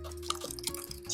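Liquid is poured slowly onto melting cheese for chile con queso, making soft drips and trickling splashes. A steady low hum runs underneath.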